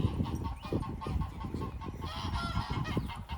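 Geese on a small farm during evening chores honk repeatedly in a dense, overlapping chorus, close by and continuous, with no talk over them.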